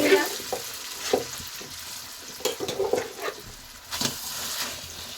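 Mashed sweet potato roasts in ghee in a pan, with a steady close sizzle broken by repeated scraping stirs of a spoon against the pan.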